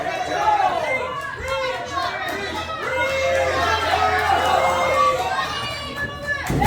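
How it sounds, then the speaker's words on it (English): Crowd at a professional wrestling show cheering and urging a wrestler on: a sustained roar of many voices under a commentator's talk. "You hear the crowd willing him into it"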